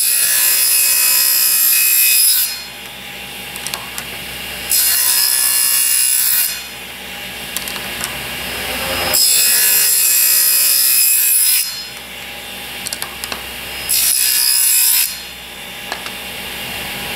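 A hand saw cuts through wood for 45-degree mitered box joints in several long bursts of rasping strokes, loud and close, separated by short pauses.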